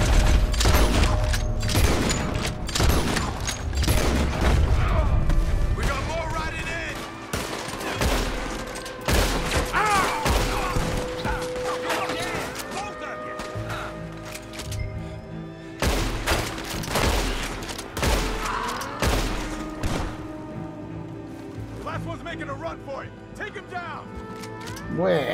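Gunfire in Red Dead Redemption 2, with repeated loud shots and booms scattered through the scene along with mechanical clicks, under frequent talk from game characters.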